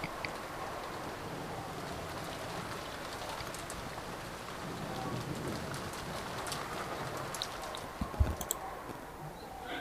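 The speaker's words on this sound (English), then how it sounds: "And the sound of the rain," Steady rainfall from the visual novel Umineko, a soft continuous hiss of drops with faint distant rumbles and a brief low thud near the end, heard alone at low volume.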